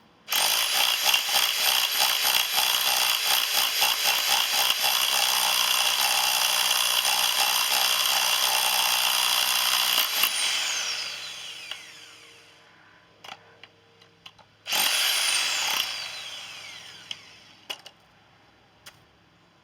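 A Parkside rotary hammer chipping at a very hard porphyry paving stone: a loud, continuous rattling hammer burst runs about ten seconds and stops, then a second short burst follows after a quiet gap.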